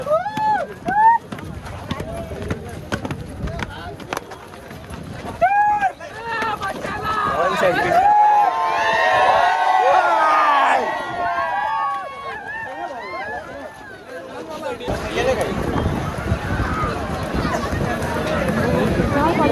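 A bullock cart race at Shahapur, Maharashtra, with a rushing wave of running bulls and carts and a loud roaring crowd, while people shout and talk close by throughout.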